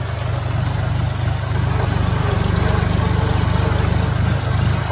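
A tractor engine rumbles loud and steady at a low, throbbing pitch as it drives along a rough, potholed village road.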